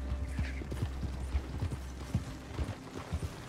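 Horse hooves clip-clop steadily while riding in the video game Red Dead Redemption 2, a regular rhythmic trot over a constant low rumble of background game ambience.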